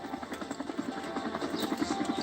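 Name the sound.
helicopter flying in circles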